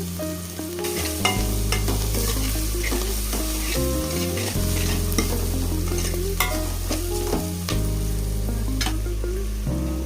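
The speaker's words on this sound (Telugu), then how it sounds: "అల్లం వెల్లుల్లి ముద్ద వేసుకొని బాగా తిప్పండి పచ్చివాసన పోయే వరకు అల్లం వెల్లుల్లి ముద్దను వేగనించాలి" Ginger garlic paste fries in a hot pan while being stirred, giving a continuous loud sizzle with scraping stir strokes throughout and no talk.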